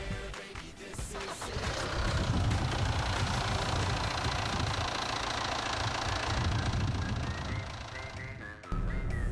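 A SsangYong Korando C engine cranks and catches, then settles into a steady, fairly loud idle hum with a faint whine, which drops off abruptly near the end.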